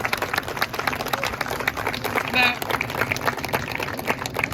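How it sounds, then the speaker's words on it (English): An outdoor parkrun crowd applauds a volunteer marshal, a dense, steady wash of clapping from many people mixed with open-air noise and occasional voices. "a massive round of applause and thanks very much to Dave Howard"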